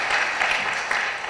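Audience applause at a talk, a dense, bright patter of many hands clapping steadily and fairly loud for a brief stretch, with no voices on top.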